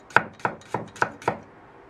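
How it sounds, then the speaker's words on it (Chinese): A knife chops ginger and garlic into slices on a cutting board, five crisp evenly spaced strikes, close and clear with no talk. "生姜和大蒜切成片。"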